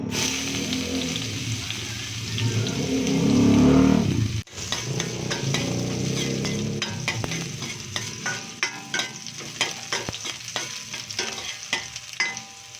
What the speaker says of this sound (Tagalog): Igigisa natin sa mantika.